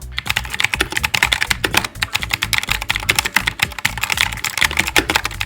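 Fast, close typing on a compact mechanical keyboard with clicky blue switches and 60 g actuation force, the sharp keystrokes tumbling in quick irregular bursts with brief pauses between runs.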